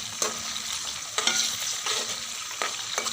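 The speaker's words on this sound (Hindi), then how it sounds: "अब हम जो है हरी मिर्च और टमाटर डालेंगे" Green chilies and tomatoes fry with cumin in a pan, a continuous close sizzle broken by sharp scrapes and clacks of stirring every second or so.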